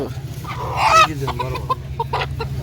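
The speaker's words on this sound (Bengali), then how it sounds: "ওনার কাছে যে লাল মোরগগুলা দেশীয় মোরগ" Native red roosters cluck and squawk nearby at a rural market in Bangladesh over a steady low hum, with one louder call standing out among scattered short clucks.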